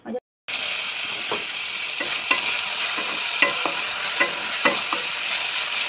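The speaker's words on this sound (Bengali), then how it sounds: "উচ্ছে আলু কেটে রেখেছি এটাকে ধোবো সাদা তেল দিয়ে ভাজবো" Cut bitter gourd and potato fry in white oil in a pan, giving a steady sizzle broken by several scraping stirs of a spatula.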